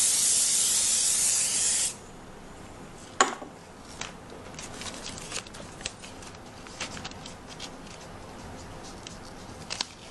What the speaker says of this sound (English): I'm going to spray the back of this